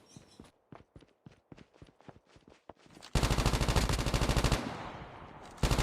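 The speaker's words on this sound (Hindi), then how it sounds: "यहाँ पे तो बहुत देर से गन फाइट्स की आवाज़ें आ रही थी" Gunfire in the mobile shooter COD Mobile: scattered single shots and short bursts at first, then a sustained, loud automatic burst that fades briefly and kicks back in at the end.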